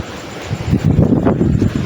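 Strong wind gusts during a night rainstorm, a loud, broad rushing roar that swells and surges without voices.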